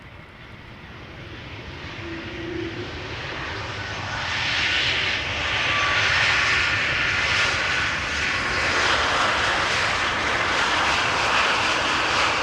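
An Air Baltic airliner arriving at Amsterdam Schiphol Airport, its engine roar swelling from a distant rumble to a loud, broad, sustained drone as it passes overhead.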